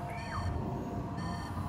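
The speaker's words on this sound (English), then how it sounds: "that is so annoying, that beeping" Repeating electronic beeping from a timer in the Spore video game sounds at a moderate level, with a short pitched warble near the start and a second burst of tones later, over a low background hum.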